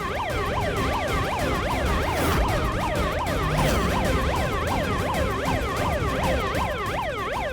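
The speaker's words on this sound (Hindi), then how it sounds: "पुलिस सायरन की आवाज सुनकर ये गुंडे जरूर इधर उधर भागेंगे।" Police siren sounded from a child's bicycle horn, a steady warbling wail with rapid rising and falling sweeps repeating continuously for several seconds, loud and close with no talking.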